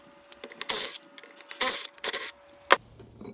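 A 1/2 inch socket works the lock nuts off the sprocket of a chain-drive Jolly Dolly Power Plus axle, giving several short, close ratcheting and metallic scraping bursts separated by brief pauses.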